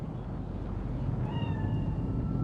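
A cat meows in the video game Cyberpunk 2077, a single drawn-out tonal meow rising over a low, steady rumbling ambience.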